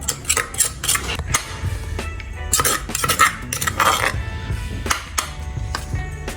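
Stir-fried Chinese cabbage (bok choy) in oyster sauce is scooped from the pan into a bowl, with repeated close metallic scrapes and clinks of utensil against cookware at an uneven rhythm, no talk.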